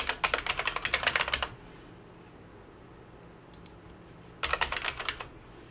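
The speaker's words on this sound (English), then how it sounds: "we're going to type in PowerShell" Rapid typing on a computer keyboard at a Windows 11 PC, with a dense burst of key clicks, a quiet pause with a few stray taps, then another short run of keystrokes.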